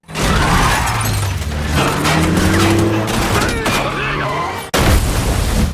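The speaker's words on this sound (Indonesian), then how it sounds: "terlihat gangster yang sedang tembak-tembakan" A dense burst of gangster gunfire and shattering crashes fills a loud, chaotic action film scene, broken by a brief drop before the barrage resumes.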